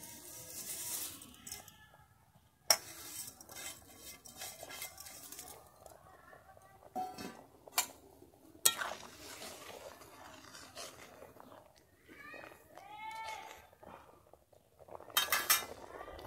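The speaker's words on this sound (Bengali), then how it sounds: "এরপরে আমি ভেজে রাখা সিমাইটাকে দিয়ে দিচ্ছি" Fried vermicelli (semai) going into a pot of milk with cardamom and being stirred: close metal spoon clinks and scrapes against the pot at irregular intervals, with soft liquid sounds and some quiet talk.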